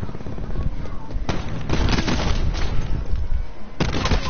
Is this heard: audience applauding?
no